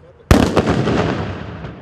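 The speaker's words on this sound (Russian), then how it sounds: "силу, казалось бы, безопасного патрона от сигнального пистолета и взрыв пакета, который имитирует разрыв ручной осколочной гранаты" A blast charge simulating a hand fragmentation grenade goes off with a single sharp, loud bang, followed by a long rumbling decay. A flare pistol cartridge is also involved, but the bang dominates and no speech is heard.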